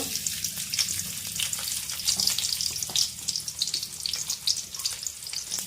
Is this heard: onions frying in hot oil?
yes